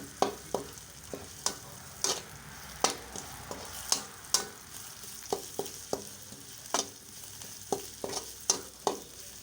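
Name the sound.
dry-roasting minced pork larb in a pan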